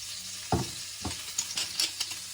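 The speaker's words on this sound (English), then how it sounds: "So we turned over our chicken breasts. They were frying for about 3 minutes" Quiet frying of chicken breasts in a pan, with a few soft scraping stirs, no talking.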